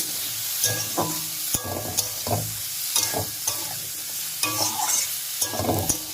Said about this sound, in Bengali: এবার এটার সঙ্গে সুন্দর করে কষাতে হবে